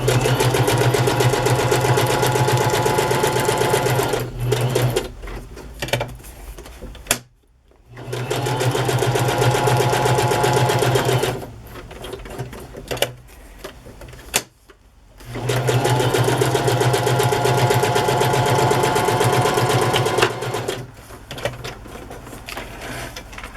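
A sewing machine runs a zigzag stitch, attaching cardstock to paper in three long, loud, steady whirring runs, each separated by a short pause.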